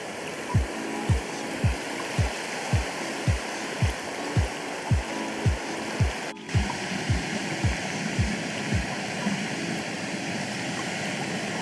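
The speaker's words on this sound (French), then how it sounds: "Voilà où on va remplir l'eau." Water runs continuously while water containers are refilled during a van road trip in Albania. A steady rushing noise carries regular rhythmic thumps about twice a second, with no speech.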